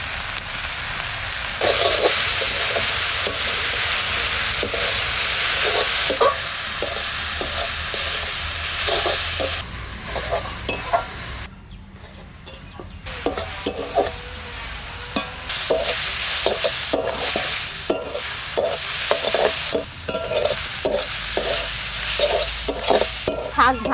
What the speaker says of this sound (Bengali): শাক ভাজা হয়ে গেছে, বেশি সময় লাগলো না।